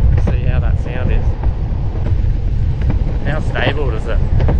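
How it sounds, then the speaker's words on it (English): Steady wind buffeting the microphone, a constant low rumble under people talking outdoors. "It is real windy at the moment,"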